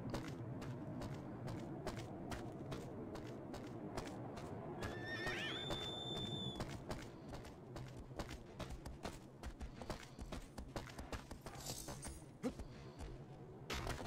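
A horse whinnies once in Shadow of the Colossus on PS2, its neigh rising over a steady bed of hoofbeats and game ambience that carries on throughout.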